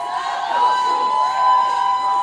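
Crowd noise from a Black Lives Matter march through downtown Montreal, a steady lively murmur of many voices with some raised shouts, continuous and moderately loud.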